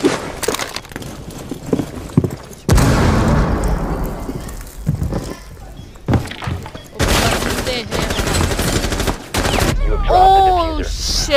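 A breach charge detonating in Rainbow Six Siege, a sharp loud blast with splintering debris among bursts of gunfire and other in-game noises, while a player talks.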